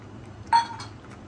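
Spoon stirring semai payesh with cardamom in a metal pot, a single faint close clink against the pot's side followed by a softer scrape, with quiet kitchen background.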